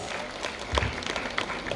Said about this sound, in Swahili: Pigieni makofi Mheshimiwa Rais